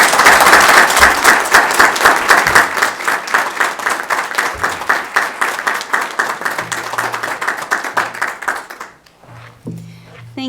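People at a TriMet transit board meeting applaud, starting as dense applause that thins into a slower, rhythmic clapping, then stops abruptly near the end, followed by a voice speaking.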